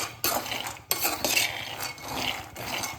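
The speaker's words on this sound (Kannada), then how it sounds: "ನಾನು ಇದನ್ನು ಫ್ರೈ ಮಾಡ್ತಾನೆ ಇದ್ದೇನೆ" Peanuts dry-roasting in a pan for chikki are stirred continuously, making close, rattling scrapes and bursts of shuffling in an irregular rhythm, with no voices.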